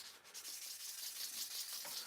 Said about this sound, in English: I think this is the last one I'm going to be sanding on